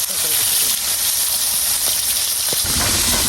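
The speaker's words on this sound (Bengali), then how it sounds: "এবার আমি কড়াইতে তেল দিয়েছি, পানিটা নামিয়ে আলুগুলো ভেজে নেবে একটু।" Potatoes frying in hot oil in a wok give a loud, dense, continuous hiss close by, with a couple of small pops and a brief shift in tone near the end.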